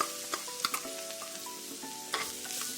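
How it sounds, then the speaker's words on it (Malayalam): Grated coconut sautéed in ghee on a low flame for beetroot laddu, with soft intermittent spoon scrapes and faint sizzling, quiet and close. "എന്നിട്ടത് ഒരു ലോ ഫ്ലെയിമിലിട്ട് നമുക്കൊന്ന് ചൂടാക്കി ഒന്ന് വഴറ്റിയെടുക്കാം."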